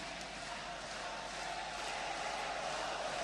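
Steady roar of a large crowd cheering and shouting encouragement at an Indonesia versus Malaysia badminton doubles match, continuous and loud with no break across the whole stretch.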